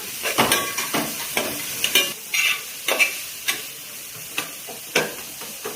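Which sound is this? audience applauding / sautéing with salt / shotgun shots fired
sautéing with salt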